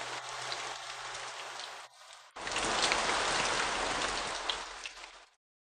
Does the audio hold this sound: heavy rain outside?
yes